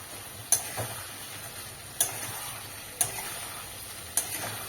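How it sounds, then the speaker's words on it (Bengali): Potato and cauliflower curry being stir-fried in a pan for a soybean cauliflower dish, a steady faint sizzle broken by four sharp spoon scrapes or knocks spaced about a second apart. "এটা খুব সুন্দর করে কষিয়ে নিয়ে তারপর আমি সয়াবিনগুলো এর মধ্যে দিয়ে দেবো।"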